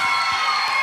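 An audience at a school arts showcase cheers and applauds for students, a brief burst of loud, dense crowd noise with shouts and whoops blended into a steady roar.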